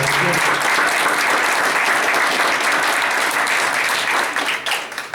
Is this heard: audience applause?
yes